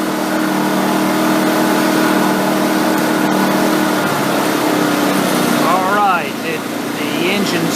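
WEN 56225i inverter generator in econo mode drones steadily and loud, its engine note easing down toward the end as someone briefly speaks over it.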